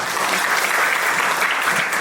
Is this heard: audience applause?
yes